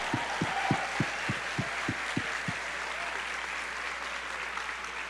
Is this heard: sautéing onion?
no